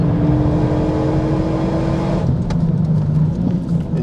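A Renault Megane 3 RS Chassis Cup engine roars steadily under throttle, loud and close, its tone shifting as it pulls harder, with faint tyre and mechanical noise.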